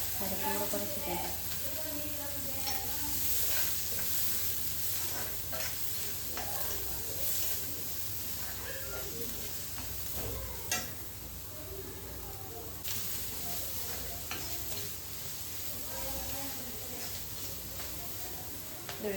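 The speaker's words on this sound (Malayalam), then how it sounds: "അരപ്പും കൂടെ കുറച്ച് കേൾക്കാം." Ground spice paste fries in a pan with a steady sizzling hiss and occasional stirring scrapes, while a person talks over it throughout.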